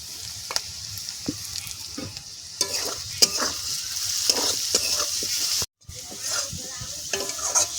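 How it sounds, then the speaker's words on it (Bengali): Ground cumin and chili powder frying with ginger and garlic in a pan for a sea chela fish and potato curry: a steady close sizzle broken by repeated spatula scrapes and taps, with a brief silent gap. "সব মশলা ভালো করে কষিয়ে নিয়েছি"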